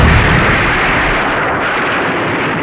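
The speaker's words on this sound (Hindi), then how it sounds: "एक जोरदार धमाका हुआ।" A single loud explosion hits hard at the start, then rolls into a dense, roaring blast that decays slowly, with low booming energy and no voices.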